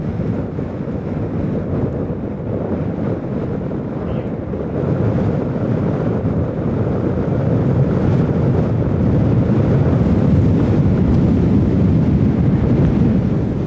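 Strong wind blows across an open disc golf course, roaring in a dense continuous rush against the microphone that builds slightly louder toward the end, with no voices.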